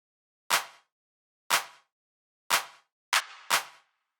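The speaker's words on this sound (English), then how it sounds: "there is another clap in the background." A background clap sample panned slightly left repeats at a steady pace, five crisp hits with short reverb tails. The fourth lands just early with a smeared, doubled decay, alone in otherwise silent space.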